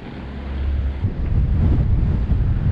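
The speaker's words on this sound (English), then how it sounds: "Oh, the wind is back." Wind roars across the microphone during a mountain bike ride in Hawaii, a loud, steady low rumble with gusty surges that never lets up.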